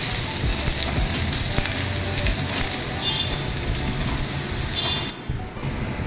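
Chopped onion frying in hot oil, a loud, continuous crackling sizzle close by that holds steady throughout before briefly dipping near the end.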